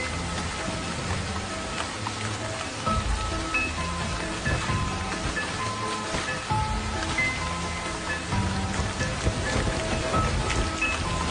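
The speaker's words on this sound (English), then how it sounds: "Hour after hour, the rain just keeps on coming." Heavy rain pours without pause during an enormous African storm, a dense, loud, steady hiss of drops drumming on surfaces, with no voices.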